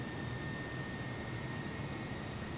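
Airbus A320 jet engines climbing out after takeoff from Sheremetyevo, Moscow, in a flight simulator, a steady broadband roar with a thin high whine, unbroken and even throughout.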